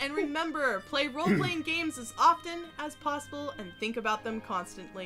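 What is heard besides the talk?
No everyday noises stand out.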